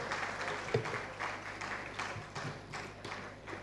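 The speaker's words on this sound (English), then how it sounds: "Please put your hands together for him as he comes up." Soft, distant applause from a plenary audience at a national migrant dialogue as a speaker comes up, a low, steady patter of clapping.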